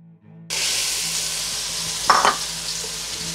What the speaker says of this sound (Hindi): मैंने एक पैन लिया है, तो उसके अंदर मैंने ये एक 2 से 3 टेबलस्पून ऑयल डाला है पैन में। अब मैं इसमें फ्रेश गार्लिक डाल दूँगी।